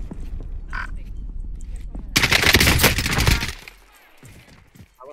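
Gunfire from Call of Duty Warzone: a dense, loud burst of rapid automatic shots lasting about a second and a half, with quieter game noise and faint talk before and after.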